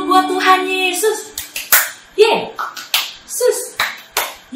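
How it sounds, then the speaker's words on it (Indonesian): Children at a Sunday school service clap their hands in scattered bursts of sharp taps, mixed with excited kids' voices and cheering between the claps. "Tepuk tangan dulu buat Tuhan Yesus."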